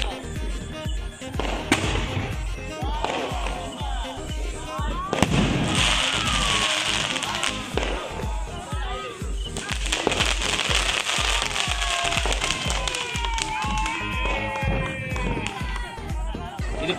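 A barrage of Niagara firecrackers bursting during night-time Diwali celebrations in rapid, continuous crackling pops, loud and close, with whistling streaks rising above the din.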